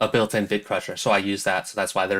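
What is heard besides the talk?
No everyday noises stand out.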